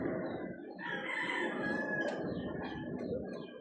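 A rooster crows one long, drawn-out call close by, with faint clucking and a busy background around it.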